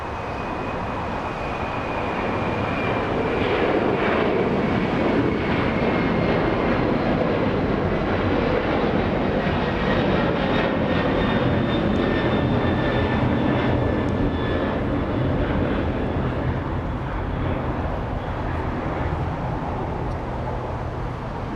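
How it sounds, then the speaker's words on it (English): A DHL cargo plane operated by ABX Air takes off at LAX, a steady broad engine roar with a high whine, sustained and moderately distant throughout, with no voices. "A DHL plane operated by ABX Air today. Now traveling at 150 knots."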